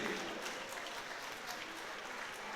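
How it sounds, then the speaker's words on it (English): A boxing arena crowd applauds the losing fighter, Robert Swierzbinski, after his bout with Chris Eubank Jr. The clapping is a dense, continuous roar of many hands, full and sustained throughout. "Ladies and gentlemen, a round of applause for the Hurricane Robert Swierzbinski."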